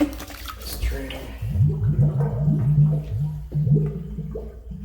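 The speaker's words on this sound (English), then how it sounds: "You can hear it down there, but it's draining." Water gurgles and drains down a waterless urinal, with a run of close, bubbling glugs repeating in an uneven rhythm over a few seconds, faint and hollow-sounding.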